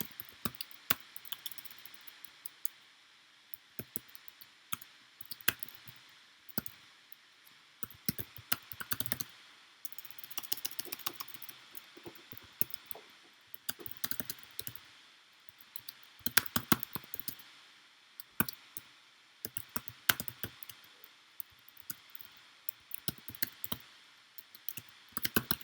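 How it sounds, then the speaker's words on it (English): Someone types in uneven bursts on a computer keyboard, with close, crisp key clicks clustering into quick runs and then short pauses, with no talking. "I'll try and type that too."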